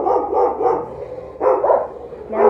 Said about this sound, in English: Sorry, I've got dogs freaking out.